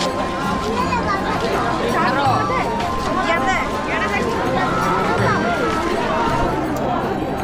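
A large, dense crowd at the Bahuda Yatra festival in Sonepur, Odisha, fills the air with a constant close hubbub of overlapping voices, shouts and footsteps, steady and loud throughout.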